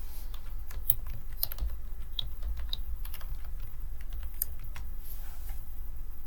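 Keys on a computer keyboard clatter steadily as a school login is typed, a quick uneven run of close, crisp taps with no talking.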